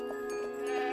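A cartoon goat bleats in a mountain scene near a cabin, a short, steady, wavering nasal cry lasting under a second, with no talk over it.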